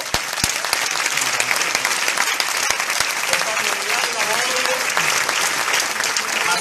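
A crowd at an Italian Five Star Movement political rally in Veneto applauds steadily and loudly for the whole stretch, dense clapping with a few sharper claps standing out and faint voices underneath.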